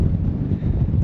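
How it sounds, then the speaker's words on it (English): Strong gusty wind buffets the microphone on the Oregon coast, a loud, continuous low roar with no pauses across the whole second. "It got so windy."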